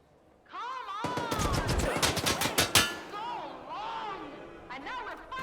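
Rapid bursts of automatic gunfire from a video game firefight against an exosuit-armored opponent, loud volleys clustered in the middle with scattered shots later, under a voice talking throughout.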